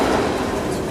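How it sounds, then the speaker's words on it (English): A Berlin S-Bahn train bound for Sachsenhausen pulls away from the platform, giving a steady, broad rumble with rail noise that stays loud and continuous for about a second. "There goes the train to Sachsenhausen."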